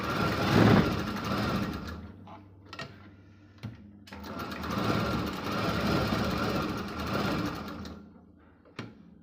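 Sewing machine stitching around the edges of cut blouse pieces, a steady mechanical whir running in two long bursts with a short pause and brief stops between, close and fairly loud.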